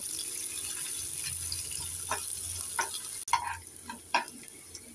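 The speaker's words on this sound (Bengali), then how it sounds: "এবার নেড়ে চেড়ে পেঁয়াজটাকে আমি 2 মিনিট ভেজে নেব" A small onion is stirred and fried in a pan for a bean and potato curry. The sizzle is faint and steady, with a few soft scraping clicks from stirring near the end.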